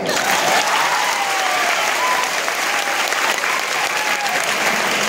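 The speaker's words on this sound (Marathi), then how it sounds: "मग जोरदार टाळ्या होत्या." Loud, dense audience applause from a student gathering fills the hall, sustained and even for several seconds with a faint murmur of voices underneath.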